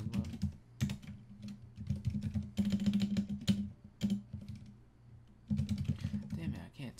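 Rapid typing on a computer keyboard, close and continuous, with bursts of clicks running under a voice as he talks through writing code.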